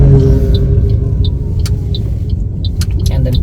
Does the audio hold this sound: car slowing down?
yes